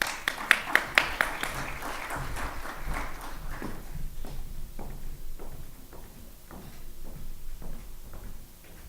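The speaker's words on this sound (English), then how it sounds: "let's have a round of applause for all of these people." Audience applause at a leadership and service award presentation, a few loud close claps at the start, then a steady scattered clapping from a crowd that thins out over time.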